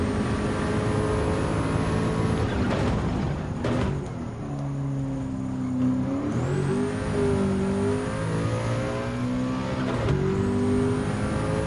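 A Group 1 race car with a 5-speed transmission accelerates in Gran Turismo 7, its engine whining upward through gear changes, loud and close, with no talking.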